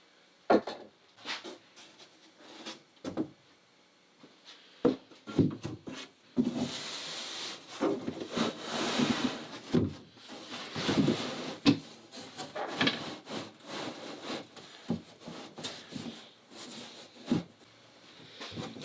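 A piece of plywood is slid into position while fitting the deck of an International 2.4mR sailboat, giving intermittent close wooden rubs, scrapes and knocks with a longer sliding scrape partway through.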